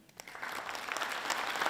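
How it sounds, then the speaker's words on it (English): Audience applause for an award winner at an Impact Awards ceremony, steady clapping from a crowd that builds slightly in loudness, with no talking. "Big round of applause for the first ever Impact Award winner, Mr. Franco Harris."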